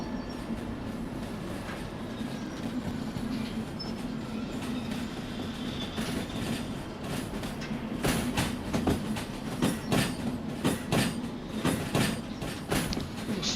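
A train rolling on rails in Derail Valley, a steady low rumble with rhythmic clickety-clack wheel beats that grow louder and more pronounced midway, heard from close by.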